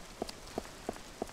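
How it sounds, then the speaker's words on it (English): Four evenly spaced soft taps or drips of rain, about a third of a second apart, over a quiet hiss in the horror game I See You; faint and close, with no talking. "It's raining outside."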